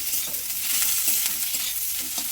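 Ginger-garlic spice paste sizzles in hot fish oil in a pan, a steady frying hiss broken by soft stirring scrapes, close and continuous with no talk.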